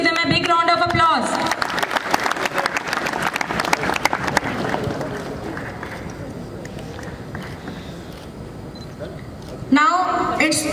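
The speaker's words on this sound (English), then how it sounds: "Students, please give them a big round of applause." Students at a school investiture ceremony applaud loudly in a hall, a dense burst of clapping that fades gradually and is bracketed by a voice over a PA at the start and end.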